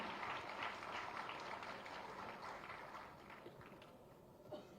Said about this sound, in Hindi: कुमारी पूजा के लिए एक बार जोरदार ताली